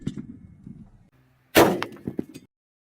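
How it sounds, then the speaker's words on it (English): A single .50 BMG rifle round slams into an engine block with a loud, sharp metallic crack and clang, following a short stretch of faint low murmur and then ringing briefly before fading. "Let's shoot round number 3."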